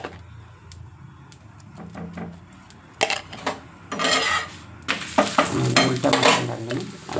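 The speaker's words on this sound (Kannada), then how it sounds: "ಅದು ಕೆಳಗಡೆ ಬೆಂದಮೇಲೆ ನಾನು ಈ ಥರ ಆಯಿಲ್ ಹಾಕ್ತೀನಿ" Chapati cooking on a hot pan as oil is added, giving soft scraping and stirring sounds that build into louder bursts of sizzling in the second half, close and without talk.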